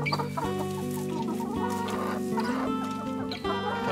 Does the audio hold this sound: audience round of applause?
no